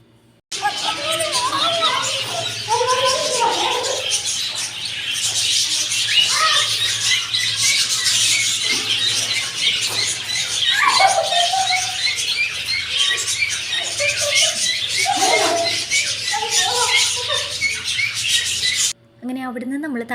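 A crowd of small aviary birds in a mini zoo squawks and chirps close around the feet, a busy, continuous chatter of overlapping calls with people talking throughout.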